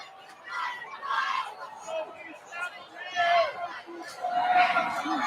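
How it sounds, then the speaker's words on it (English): A home crowd at a high school varsity football game murmurs and cheers in waves in the stands, while a commentator talks over the noise. "this is a chance for that home crowd to make some noise"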